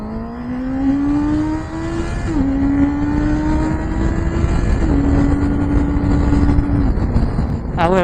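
A Honda CB650R E-clutch motorcycle accelerates hard from 0 to 100, its engine note climbing loudly and steadily and dipping briefly at each of three quick upshifts, with no talking.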